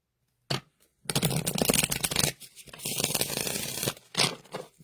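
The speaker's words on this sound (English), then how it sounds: "One more shuffle." Tarot card deck shuffled by hand, a close riffle of crisp papery flutters in several bursts with brief gaps between.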